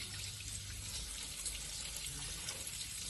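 Water rushing from a garden hose with the outlet a quarter covered by a thumb, a steady hissing spray that holds constant throughout, no talking.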